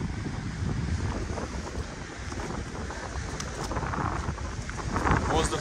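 Stormy Black Sea surf pounds the shore under strong gusts buffeting the microphone, a loud, continuous roar of crashing waves and wind that swells near the end.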